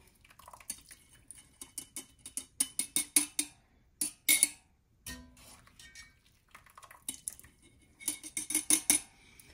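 A spoon scooping pickled carrots into a jar, giving a run of quick clinking and scraping taps in irregular bursts, fairly close and alone.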